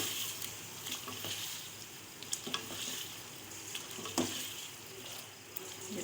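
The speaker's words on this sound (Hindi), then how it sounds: "अब इसके साथ भून लूँगी।" Chicken gizzards sizzle softly in a pan while being stir-fried for a bhuna, with occasional scrapes and clinks from a spoon stirring, fairly quiet and with no voices.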